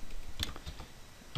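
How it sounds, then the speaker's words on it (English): A few light, scattered keystrokes tap on a computer keyboard while coding a PHP social network, quiet and close with short gaps between clicks. "I'm not really sure why I am typing this out"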